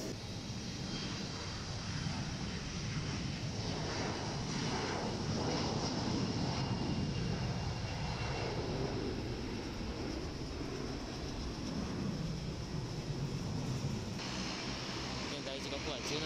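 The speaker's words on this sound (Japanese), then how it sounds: "松山からやってきた機体がプロペラ機ですね" A propeller airliner arriving from Matsuyama at Osaka Itami airport, its steady engine roar filling the scene from start to finish alongside airport ambience, with voices talking throughout.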